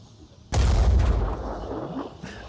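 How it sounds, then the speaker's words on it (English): A heavy cannon fires in a video game battle against mutants, one loud close boom with a deep low rumble that decays slowly, followed by a fainter secondary crack near the end. "Gotta love that cannon."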